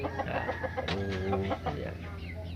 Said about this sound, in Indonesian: ayam itu udah main semua, udah bubar, udah nggak ada satupun